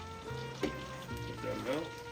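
About a tablespoon of butter melts in a pan, giving a soft, quiet sizzle beneath a person talking.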